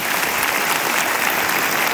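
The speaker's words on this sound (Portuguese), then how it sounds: "E vamos aplaudir a Jesus," Audience applause on a religious television program, loud and dense continuous clapping from a large crowd, steady throughout with no speech over it.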